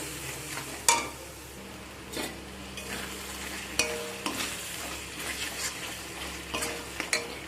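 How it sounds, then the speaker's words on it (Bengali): Ground spices sauté with a little water for Beresta chicken, a soft continuous sizzle under intermittent spoon scrapes and taps against the pan, close-up and alone. "এখন আমি এর মধ্যে দিয়ে দেবো অল্প একটু জল সব মশলাকে ভালো করে কষিয়ে নেবো"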